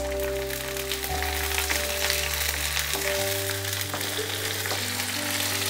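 Garlic, ginger and green chili frying in a pan for a mushroom and pea dish, giving a steady close sizzle under a sustained low musical drone, with no talking.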